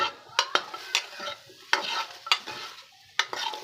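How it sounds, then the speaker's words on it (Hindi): Taro root (arbi) pieces dry-frying in a hot kadhai before any ghee is added, heard as close, intermittent scraping stirs over a soft sizzle, with no talking. "ये देखिए घी से पहले हम इसको हल्का सा गरम कढ़ाई के अंदर इसको फ्राई करेंगे"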